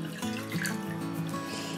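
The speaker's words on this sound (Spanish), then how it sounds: "lo que voy a hacer primero es echar agua" Water pours steadily into a container while a natural facial gel soap is being made, a continuous close splashing trickle heard alone.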